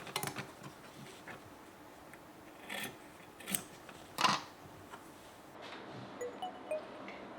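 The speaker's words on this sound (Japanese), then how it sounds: "これで縫い代の端も切っておきます。" Scissors snip along the edge of a fabric seam allowance during dressmaking, giving a few separate, fairly quiet cuts with a crisp louder one near the middle, over a low room background with no talking.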